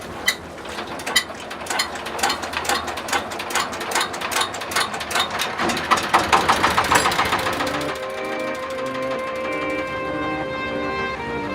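A boat engine in Bangladesh starts up with rapid mechanical knocking and clatter, building to a steady humming drone that continues alone at moderate loudness.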